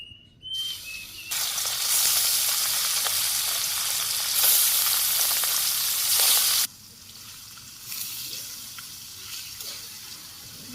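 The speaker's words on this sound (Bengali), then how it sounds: "তেল গরম হয়ে গেছে মাছগুলো ভাজি করে নিই" Fish dropped into hot oil in a Bangladeshi village kitchen bursts into a loud, hissing sizzle that holds for about five seconds, then drops abruptly to a softer, steady frying crackle, with no voices.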